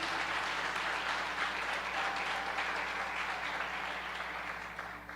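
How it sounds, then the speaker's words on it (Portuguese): Applause from a church congregation during a faith-healing prayer service, a broad even wash of clapping heard at a moderate distance, sustained for about five seconds and tapering slightly at the close. "Dê um forte aplauso a Jesus."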